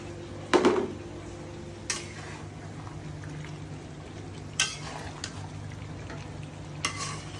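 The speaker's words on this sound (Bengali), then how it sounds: "এই তেলের উপরে যখন আলুটা ভাজা ভাজা হয়" Potatoes fry in hot oil while being stirred, a steady soft sizzle broken by several sharp scrapes and clinks of a utensil against the pan, close up and without talk.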